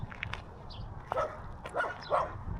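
A small dog outdoors by old fortress ruins lets out a series of quick, faint yips and barks at a distance, spaced irregularly over a soft background hum.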